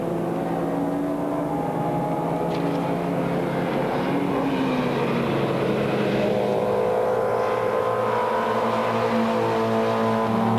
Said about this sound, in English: Pick up the leaders again. Bastos BMW, the Schnitzer car